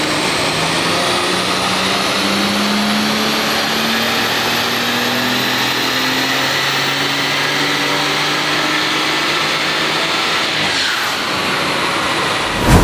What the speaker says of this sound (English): BMW M240i has done its first run on the dyno.